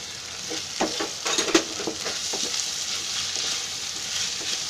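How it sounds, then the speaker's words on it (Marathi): Shredded cabbage fries in a hot pan, a steady close sizzle with scattered crackles and a few brief stirring scrapes early on, no voices. "हा जरा कोबी शिजायला द्यायचा, जरा फ्राय होऊ द्या."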